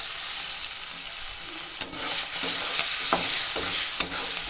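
Chopped tomatoes with cumin, coriander and chili powder sizzle steadily in a pan while a spoon stirs them, scraping sharply a few times; the frying sound stays close and continuous with no talking.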